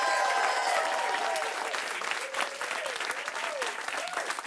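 Studio audience at a live improv comedy show applauding and cheering, a dense steady wash of clapping that thins slightly toward the end, with a host's voice talking over the start.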